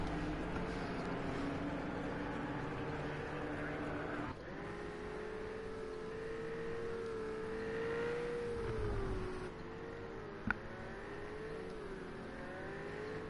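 Race cars in a racing video game roll around Imola on a formation lap, a steady engine drone with a rising, wavering whine of revs under a quiet talking voice, a brief click near the end.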